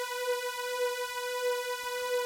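A synth pad built from eight slightly detuned oscillators holds one steady, bright harmonic tone, sustained evenly and alone for the whole stretch.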